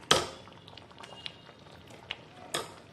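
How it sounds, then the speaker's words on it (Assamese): Banana flower and lentil curry boiling in a pan, with soft bubbling and a few sharp pops and clinks spaced across a quiet, close background. "এয়া ভালকৈ উতল আহি গৈছে।"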